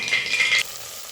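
Mustard seeds and onions fry in hot oil with a short, bright sizzling crackle up close. The burst lasts about half a second, then drops abruptly to a low hiss.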